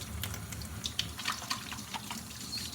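Hands being washed under a running tap during a cooking class, a steady low water hiss with faint splashes and scrubbing rubs throughout, no talk.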